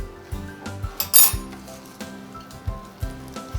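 A knife chops fresh parsley on a board, a series of distinct close thuds in an uneven rhythm with a brief clinking rattle near the start, no talk.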